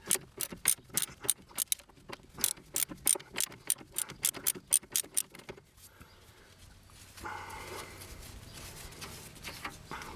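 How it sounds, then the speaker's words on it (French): A ratchet wrench turns a nut on a car shock absorber mount, giving a fast, close run of sharp clicking strokes that stops midway and gives way to low handling noise. "une clé à cliquet comme ici."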